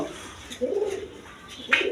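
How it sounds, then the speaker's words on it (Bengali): A male Rajgolla pigeon, a large quality bird, gives soft low coos in two short bursts, close by and moderately loud, with no talk over them. "এখানে একটা নর কবুতর আছে দেখেন কোয়ালিটি সম্পন্ন কবুতর রাজগোল্লা কবুতর"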